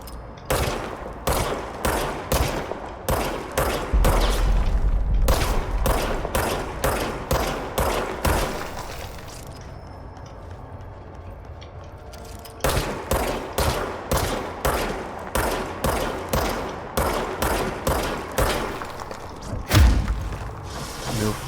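A service weapon in the game Control fires a long run of sharp, evenly spaced shots, then stops for a few seconds before another steady volley. The shots are loud and close, with no one talking.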